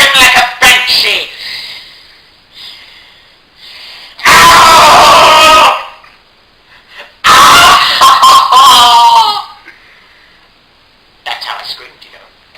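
A voice imitating a banshee-like scream, two long shrill wailing bursts separated by gasps and breathy sounds, loud and close with short spoken moments between them.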